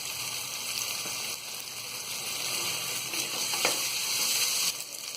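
Green chilies and ginger-garlic paste sizzle steadily in a hot pan for matar pulao, a continuous close frying hiss with no talk.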